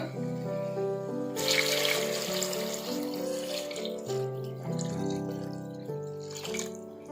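Water pours steadily into a pot of mutton leg soup for several seconds, a continuous splashing wash over a background of music.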